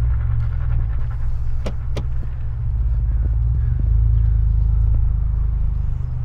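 A Ford Bronco in four-wheel drive crawls slowly over a street curb, its engine a loud, steady low rumble up close, with a couple of sharp clicks or creaks from the drivetrain and no talking.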